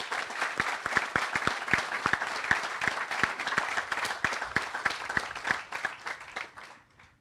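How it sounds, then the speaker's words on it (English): Audience applause at an outdoor park dedication ceremony, a crowd clapping with distinct individual claps audible over the wash, steady for several seconds before tapering off. "Let's give them all a round of applause."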